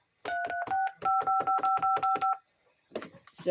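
A landline telephone that is not connected to a phone line sends a run of DTMF dialing tones, about a dozen short even beeps in two bursts. A short stretch of other noise follows.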